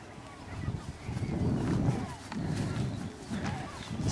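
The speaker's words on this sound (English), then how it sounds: "Birds are making a bit of a racket today." Loud honking calls from a flock of birds, overlapping and continuous, close by with outdoor background noise.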